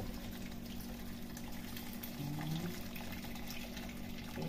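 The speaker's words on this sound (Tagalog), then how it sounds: "So, ngayon, dagdagan na natin siya ng tubig." Water pours steadily into a heavy cooking pot of Chinese vegetable soup, a continuous close liquid rush with a brief rise in pitch as the pot fills, with no talk over it.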